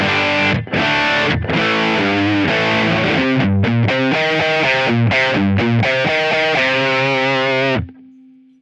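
An electric guitar plays a basic distorted tone through a Kemper Profiler, strummed chords giving way to a chugging, rhythmic riff before a final note rings out and fades, loud and close with no one speaking.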